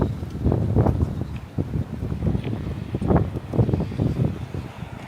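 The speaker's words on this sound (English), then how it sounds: "so hopefully this wind goes away" Wind buffets a microphone on a Toronto city street in winter, heavy irregular low gusts and rumbling thumps that surge and ebb for several seconds, loud and close, with no voices.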